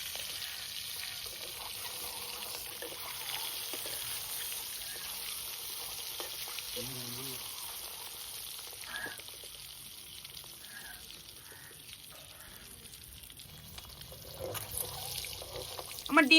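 Whole eggs frying in hot oil in a kadai, a low, steady sizzle with occasional stirring scrapes and brief faint sounds, getting louder toward the end.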